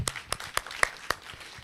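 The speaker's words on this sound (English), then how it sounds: "applause for that, definitely." A few sparse, distinct hand claps at a spiritual talk in a community center, about five crisp claps spaced roughly evenly, close and fairly quiet with little crowd behind them.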